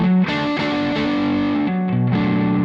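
Electric guitar played through a high-gain Symbiotic Effect distortion pedal, loud saturated chords ringing with thick sustain and a few chord changes.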